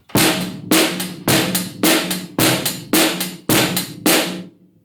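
A drum kit plays a steady beat with the snare on every quarter note and the bass drum on beats one and three, about eight loud, close hits ringing evenly with no other sound.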